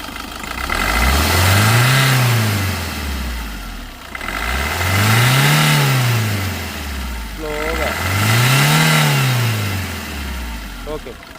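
A 2019 Maruti Suzuki Dzire VDi diesel car engine revs up and eases back down three times in a row, loud and close, each surge rising and falling smoothly.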